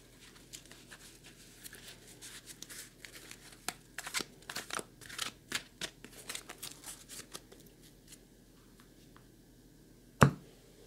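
Board game cards from White Star Rising are shuffled by hand in a run of quick, crisp riffling flutters, building to a denser burst midway, then a single sharper knock near the end in a quiet room.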